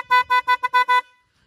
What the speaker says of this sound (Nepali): मैले हर्न हालेको छु तपाईँहरूलाई म सुनाइदिइहाल्छु